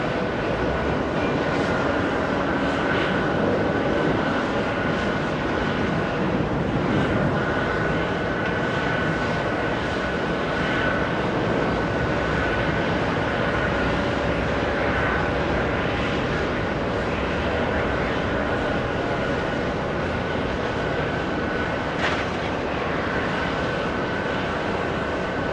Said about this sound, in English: We go to the little CRJ departing, heading to Charleston.